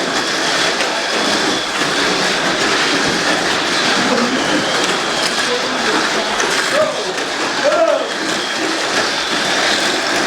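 Tamiya Mini 4WD toy cars race around a plastic track at a hobby shop winter cup, a dense, continuous rattling whir that fills the clip while voices talk underneath.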